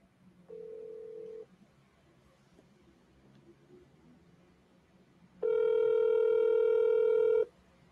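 A telephone call being placed: a short steady electronic tone, a pause, then a longer, louder, buzzy ringback tone lasting about two seconds, with no talking.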